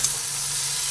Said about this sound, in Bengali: বেগুন আর ক্যাপসিকাম দিয়ে দিলাম, এরপরে এটি একসঙ্গে ভেজে নিচ্ছি